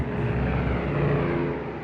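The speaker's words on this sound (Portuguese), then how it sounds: "Eu ouvi o ronco de um avião." A low, steady airplane engine drone hums continuously with a sustained tonal roar, fairly loud and even throughout, with no voices.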